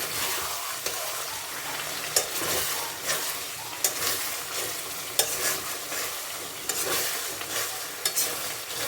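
Potatoes sautéed and stirred in a hot pan for niramish aloo dum: a steady close sizzle with repeated spatula scrapes and knocks against the pan, no voices.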